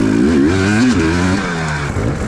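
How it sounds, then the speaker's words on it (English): KTM EXC 300 two-stroke dirt bike ridden close by, its engine loud and continuous with rising and falling revs over a brief stretch. "First time owning a dirt bike. Yeah. And first time riding one."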